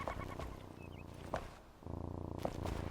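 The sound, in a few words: cat purring in a video game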